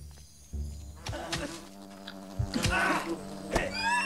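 A wasp buzzes in the game Fable Anniversary, a wavering insect drone close by with rising and falling pitch, mixed with combat clatter and short game effects.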